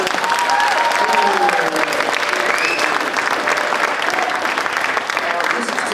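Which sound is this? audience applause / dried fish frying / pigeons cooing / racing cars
audience applause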